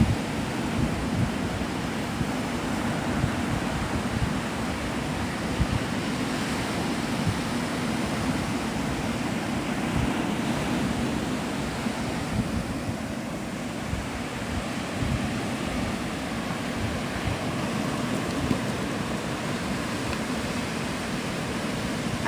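Ocean surf at Navarre Beach, Florida rolls in as a steady, dense wash of breaking waves with some wind noise, continuous and fairly loud, with no voices.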